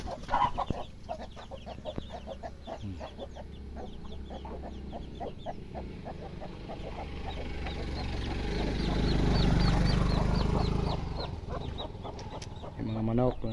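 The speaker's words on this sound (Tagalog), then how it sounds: "Yung mga manok nandito rin sa paligid." Chickens roaming around a rural provincial house among garden plants, their clucks and calls scattered throughout, with a possible rooster crow, over steady outdoor background noise and a swell of louder ambient sound midway.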